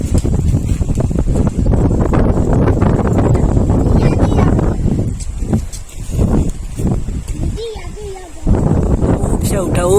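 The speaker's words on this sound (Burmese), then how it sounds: "လေတွေတိုက်နေရမ်းခါနေလေကတော်တော်တိုက်တယ်" Strong wind gusts across a microphone up in a toddy palm near Mount Popa, a loud continuous roar with brief lulls and a person speaking over it.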